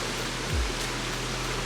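A steady broadband roar of falling water at Stewart Falls on Haast Pass in New Zealand, continuous and moderately loud, with a brief low thump near the start and no voices.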